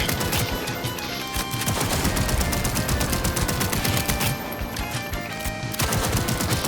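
Rapid Dying Night pistol gunfire from the Cyberpunk video game rings out in dense, repeated volleys with loud cracks that continue nearly throughout, broken by brief gaps.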